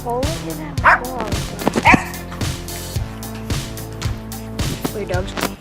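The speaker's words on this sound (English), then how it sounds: "Oh, look at that dog." Dogs barking and yipping in a series of sharp, close barks and higher yelps with some whimpering, mixed with a person speaking and a steady rhythmic background beat.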